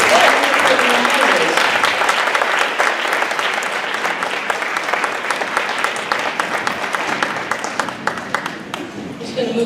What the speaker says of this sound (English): can we have a round of applause for our band students?